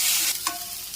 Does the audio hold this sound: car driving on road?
no